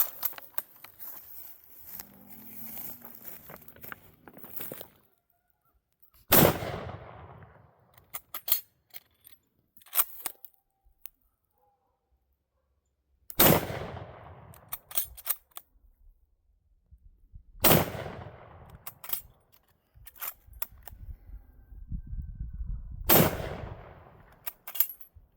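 Guns firing at scrap metal in the woods: four loud, sharp blasts spaced several seconds apart, each ringing out with a decaying echo, with scattered handling noise and quieter stretches in between.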